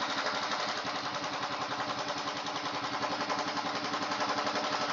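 A Royal Enfield Himalayan motorcycle engine runs steadily at slightly raised revs during carburetor tuning, a close, continuous, even mechanical chug with no talking.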